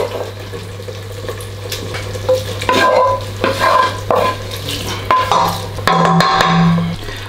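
Black trumpet mushrooms stirred into simmering tomato sauce, with a low bubbling sizzle, wet scraping strokes and occasional clanks of a utensil over a steady low hum.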